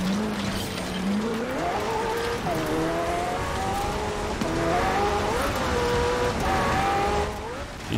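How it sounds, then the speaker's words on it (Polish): A Rimac Concept 2 electric hypercar driving in the video game Forza Horizon 4, its motor whine rising and falling in pitch repeatedly while tires squeal, loud and continuous. "to jest ten mega szybki samochód. Ten Rimac Concept 2."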